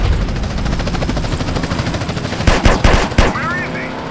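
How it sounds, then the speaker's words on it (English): Video game gunfire from a GTA San Andreas drive-by in a modded BMW M5 E60: dense continuous automatic fire over engine rumble, then three loud, sharp bursts near the end. "I'm shooting at the damn blur, CJ."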